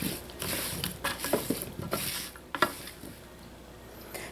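Potatoes being stirred with melted unsalted butter and seasonings in a bowl, soft wet scraping and patter strokes repeating irregularly up close, a few sharper clinks of utensil against the bowl.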